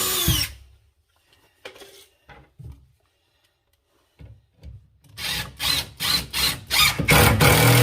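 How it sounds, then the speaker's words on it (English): A power drill drives a screw into a kitchen cabinet face frame, a few short whirring bursts after quiet handling noises, then a run of loud, rapid pulses as the screw pulls tight. "put the screw into the second one, and that pulls the screw tight"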